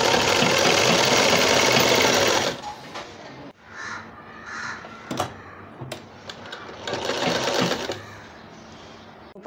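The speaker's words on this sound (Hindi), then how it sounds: "ये इस तरह से हमारी सिलाई होगी।" A sewing machine runs fast and loud, stitching cloth strips for a newborn's langot diaper, then stops after a couple of seconds, leaving quieter handling and shorter mechanical bursts.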